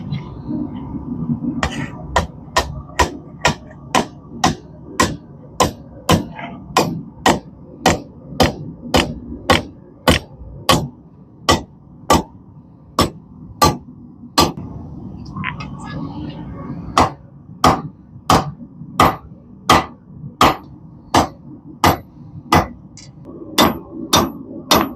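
Hammer strikes on hot rebar being forged into a cobra head, a steady run of sharp, loud metallic blows with a short pause mid-way, over low forge roar and background hum.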